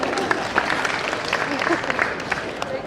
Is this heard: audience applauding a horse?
yes